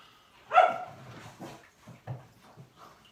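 A dog barks once loudly and close, followed by a few fainter yips and whimpers from dogs indoors, with no talk over them.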